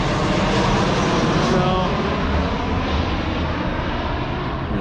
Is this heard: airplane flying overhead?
yes